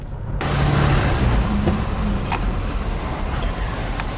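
A 2016 Honda Pilot with a rough-running engine and high idle is driven on the road, giving a steady, close engine and road rumble throughout.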